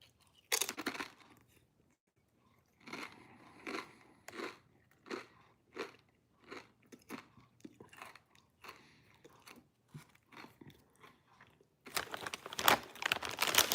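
Crunchy bites into zesty jalapeno popper Doritos tortilla chips, with a rhythmic run of close, loud crunches and chewing, a rustle of the chip bag at the start and louder crinkling at the end; no talking.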